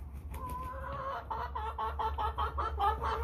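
American Bresse chickens cluck in a breeding pen, a quick run of soft, rhythmic clucks over a low background hum, close by and with no talking.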